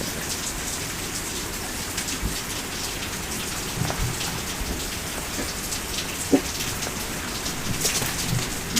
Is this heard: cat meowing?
no